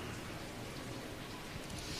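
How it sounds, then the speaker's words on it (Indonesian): Rain falls steadily outside, a dense even hiss of drops throughout, soft and constant with no voices over it. "Di luar hujan,"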